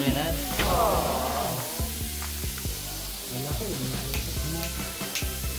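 Food sizzling and frying in a pan while a homemade sandwich is cooked at home, a loud, steady crackling hiss with stirring scrapes, close by, and a voice briefly heard underneath.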